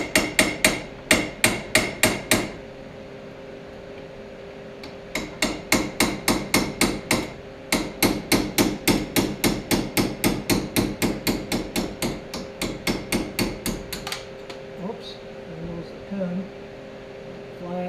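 A hammer pounds on the gear shift of a 1966 Ford Galaxie 500 convertible in rapid, loud metallic strikes, in several bursts of many quick blows separated by pauses, with a steady hum underneath.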